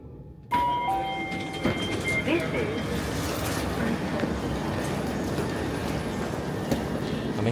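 Steady rumbling noise on an express train fills the space, a constant low roar with faint high squeals, after a brief quiet moment at the start.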